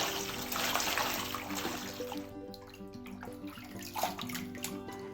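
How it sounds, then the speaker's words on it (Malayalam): Malabar spinach leaves are rinsed under running water for a dal curry: a steady wash of splashing and flowing water continues throughout, with a soft tonal hum in the background. "പച്ചയ്ക്ക് ഉപയോഗിക്കുമ്പോൾ ഏത് ഇനം ഇലകളാണെങ്കിലും നന്നായി കഴുകിയെടുക്കണം."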